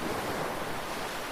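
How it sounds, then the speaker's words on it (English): Ocean waves break on a quiet beach in a steady, dense wash of surf. The roar is continuous and fairly loud, mixed with a light breeze and no voices. "Listen to the steady rhythm of the waves."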